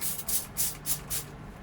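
Several short hissing sprays from a Clorox cleaning spray trigger bottle, evenly spaced, close by, with soft rubbing in between.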